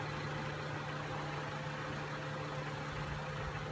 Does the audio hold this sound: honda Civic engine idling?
yes